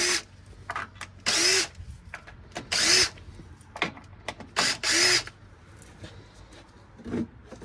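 Power driver with a number 1 Phillips bit removing valve cover screws on a Kawasaki Mule Pro engine: several short, loud whirring bursts close by, separated by pauses and small clicks.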